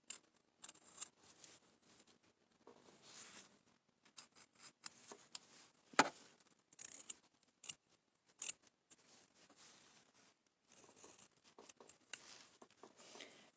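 Paper being cut with scissors for a lion craft, a quiet, irregular series of soft snips and rustles close by, with brief pauses between cuts.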